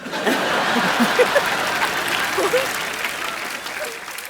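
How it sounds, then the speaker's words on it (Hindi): A studio audience at a comedy show claps steadily and loudly throughout, mixed with some light chuckling and voices in the crowd. "ओए तालियां भी।"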